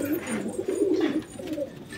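Pigeons cooing in a loft, a close run of soft throaty coos repeating in a rolling rhythm, with faint rustling behind.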